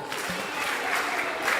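An audience at an indoor session breaks into brief clapping, a soft patter of several hands lasting under two seconds, with faint voices mixed in.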